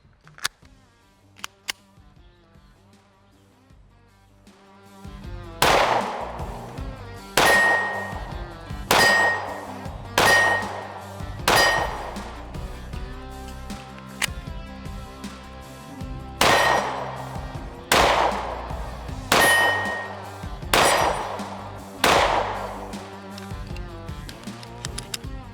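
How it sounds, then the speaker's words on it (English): Taurus GX4 pistol fired repeatedly at a small steel target at distance, each sharp report followed by a bright metallic ring, about eight evenly spaced shots in a steady rhythm with no talking. "I'm going to take the Taurus now, and I want to shoot the smaller steel and see how it does at distance on a smaller target."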